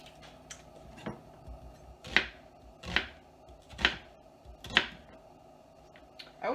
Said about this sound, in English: A rough chop on your onion as well